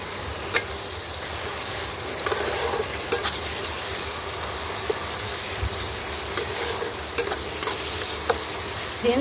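Chilli powder and turmeric being stirred in a frying pan, a continuous sizzle broken by repeated clinks and scrapes of the spoon against the pan.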